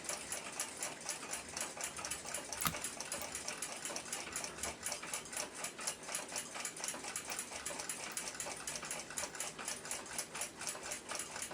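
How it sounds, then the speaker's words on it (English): A Sandoz desk clock's mainspring is let down, giving a rapid, even ratcheting tick that runs steadily and close up throughout, with no talk. "Not much power left in the mainspring, but I'll let what small amount of power there is down."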